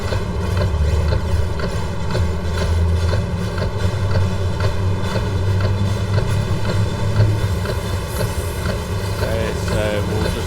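A locomotive under power on a steep mountain line in the Train Sim World Arosa route, a loud steady low motor hum with rhythmic mechanical clatter throughout, with someone talking over it.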